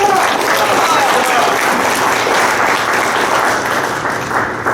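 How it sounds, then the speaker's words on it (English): Loud, dense applause from a symposium audience, close and sustained for several seconds before easing slightly at the end. "a round of applause for them"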